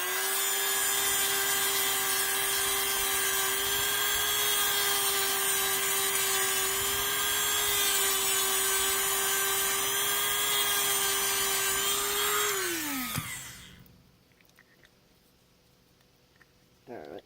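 A power tool grinds out the inside of a foam pool noodle for catfish jugging, a loud steady high-pitched whine that holds for about twelve seconds before spinning down abruptly and falling quiet.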